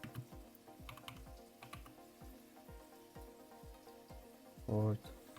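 Fingers tapping on a computer keyboard, a quiet close run of light regular keystrokes for several seconds, with a short soft tone near the end.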